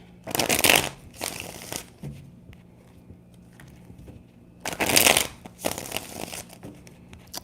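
Tarot cards are shuffled by hand in two crisp riffling bursts separated by a quiet pause, close-up with faint handling noises between them.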